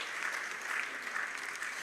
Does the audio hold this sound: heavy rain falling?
no